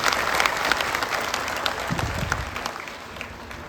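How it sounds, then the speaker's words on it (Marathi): A large audience at a devotional Ramkatha satsang claps together, a dense, loud wave of applause that slowly thins and fades. "त्यासाठी टाळ्या वाजून धन्यवाद द्यायचे"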